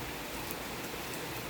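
Rain falls outdoors as a faint, even, continuous hiss of drops, with no voices over it.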